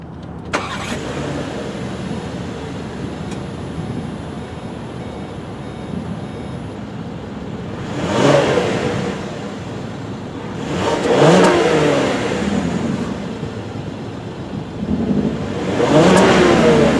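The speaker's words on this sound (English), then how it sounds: "touch that, and the V6 will start right up" A 2018 VW Atlas SEL Premium V6 cranks and fires up, then settles into a steady idle broken by three rising revs spaced a few seconds apart, loud and close with no talking.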